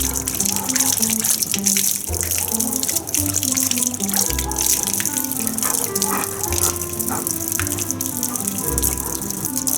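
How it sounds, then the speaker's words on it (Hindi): A husky drinks from a running water tap, the steady splash and gush of the faucet close by with wet lapping and slurping mixed into the flow. "टाइसन ने स्नो को भी सिखा दिया नलके से पानी पीना"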